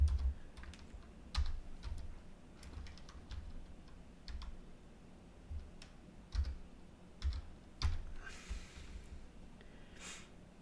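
Keys tapped on a computer keyboard while working in Rhino 3D software, coming as quiet, close, irregular bursts of clicks with short pauses between runs and a few firmer strikes standing out.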